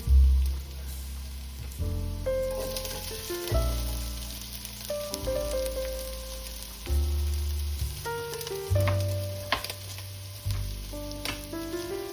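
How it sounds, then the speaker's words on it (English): Chopped onion sizzles in a pot for a quick coconut soup, a steady frying hiss running beneath louder background music with shifting tones. "Then let's add in some onion."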